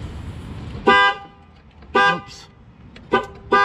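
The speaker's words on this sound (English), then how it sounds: "your alarm will go off once you connect the fresh battery" Loud, close horn blasts from a Dodge Journey's car alarm go off after a new battery is hooked up, four separate honks spaced about a second apart over quiet background noise.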